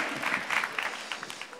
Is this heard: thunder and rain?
no